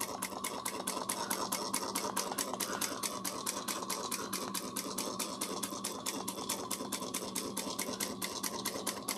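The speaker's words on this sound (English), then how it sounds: "I'm back stitching." A sewing machine back stitching on a bag, its needle hammering in a fast, even rhythm that runs steadily and close for the whole stretch.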